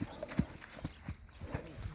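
Faint, irregular hoof clops on hard ground, a stallion walking a few steps at a slow uneven pace amid light background noise.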